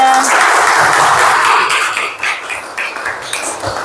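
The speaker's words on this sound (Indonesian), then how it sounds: "beri tepuk tangan buat kelompok 3" A classroom of students applauds group 3 after their presentation, loud dense clapping that thins into scattered claps and room noise.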